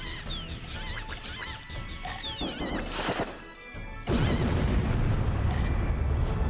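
Missile explosion in Chicken Invaders Remastered, a loud broadband blast that erupts suddenly and sustains as a roaring crash after a stretch of chirpy game sounds and clucking chicken effects.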